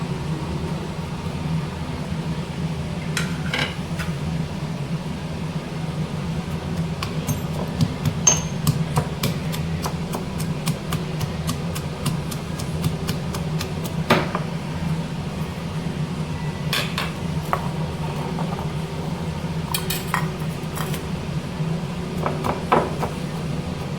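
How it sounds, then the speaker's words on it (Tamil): Garlic and then onion being crushed by hand for chicken poruma kozhambu, a series of sharp pounding knocks at close range, coming in irregular bursts over a steady low kitchen hum, with no talking. "இந்த பூண்டையும் நசுக்கிக்கலாம்"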